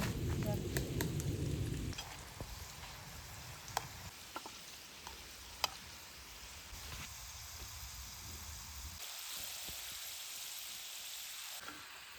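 Finger chips (potato fries) frying in hot oil at an outdoor forest campsite, a steady crackling sizzle, loud at the start and then softer, with a few clinks of utensils.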